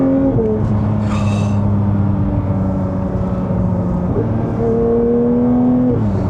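Porsche GT3 sports car accelerating hard, a loud, steady engine drone heard from inside the cabin that climbs in pitch through successive gear changes, with a brief higher whine near the start.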